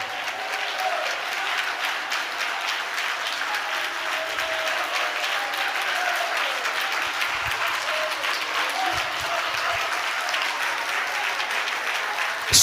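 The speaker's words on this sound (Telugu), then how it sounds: "గట్టిగా చప్పట్లు కొడుతూ దేవుని స్తుతించండి" A church congregation claps hard and fast in praise, a dense continuous roar of many hands filling the space at close range and loud throughout, with no break.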